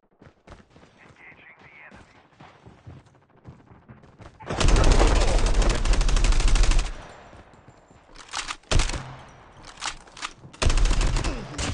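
Automatic gunfire in the mobile shooter game COD Mobile on the Alcatraz map, loud sustained bursts of rapid shots with gaps between volleys and quieter game sounds before.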